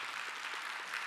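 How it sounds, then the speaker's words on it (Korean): A church congregation claps together during a Wednesday praise worship service, giving glory to God: a steady, dense patter of many hands, fairly soft and distant, with no speech over it. "하나님께 영광의 박수 한번 올려드리도록 하겠습니다."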